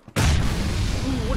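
A loud, close grenade blast in an online shooter match, a sharp booming onset followed by a sustained rumbling roar, with a player's voice sounding faintly over the tail.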